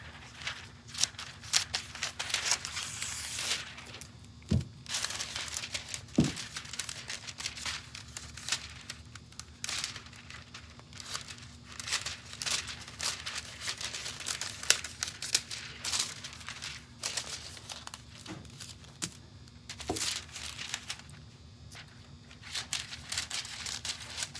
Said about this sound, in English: I'm cutting the pieces to fit each of the patterns I created